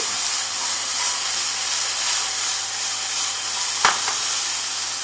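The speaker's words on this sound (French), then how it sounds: "Maintenant on ajoute les courgettes." Courgette cubes sizzle in a hot pan as a steady, loud, hissing frying sound that goes on without a break, with one brief clack of a utensil partway through.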